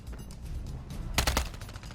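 Gunfire in the mobile shooter Warzone Mobile: a short rapid burst of automatic shots cuts through a low background rumble of game ambience.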